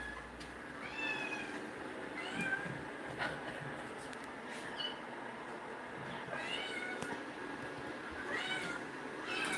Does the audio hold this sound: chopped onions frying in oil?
no